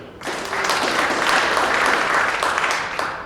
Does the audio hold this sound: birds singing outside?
no